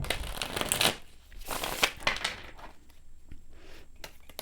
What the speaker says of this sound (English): shuffle these cards and get some clarifications.